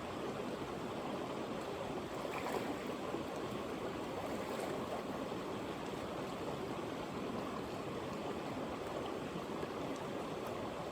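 Cold, knee-deep creek water runs continuously in a steady broadband wash, close and loud throughout with no voices over it.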